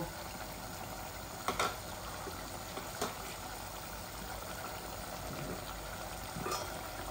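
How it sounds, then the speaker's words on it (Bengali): Fish curry with potatoes bubbling in a pot, a steady dense simmering hiss with a few louder pops and bursts rising above it, heard close with no talk. "দেখুন বলক এসে গেছে"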